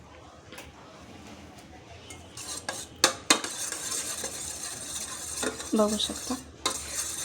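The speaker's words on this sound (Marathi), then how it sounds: "दही, तेल आणि तूप चांगलं तर हे मिक्स करून घ्यायचं आहे आपल्याला." A spoon clinks and scrapes around a bowl while curd, oil and ghee are mixed for a chocolate oats diet cake, in irregular bursts of close stirring with a voice speaking briefly.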